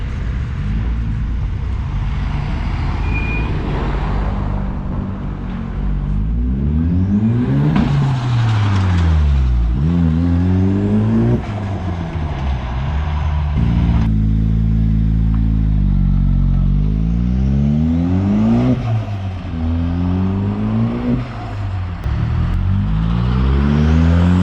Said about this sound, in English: how much traffic.